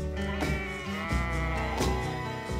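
Sheep on a British wool farm bleat loudly and close, several overlapping drawn-out calls one after another with no talking.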